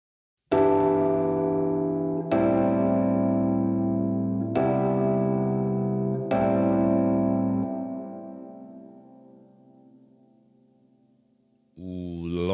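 Four sustained Rhodes electric piano chords ring out one after another through a Master Room Super C Long reverb, the last one decaying slowly in a long, lush tail before a new note begins.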